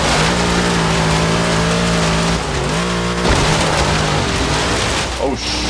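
1967 Ford Falcon XR GT engine accelerating in the Forza Horizon 3 video game, a loud continuous roar that climbs in pitch, drops briefly at a gear change, then climbs again, with a voice talking over it.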